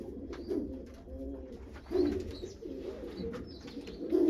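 Pigeons coo in soft, repeated throaty calls close by, overlapping one another with faint background noise.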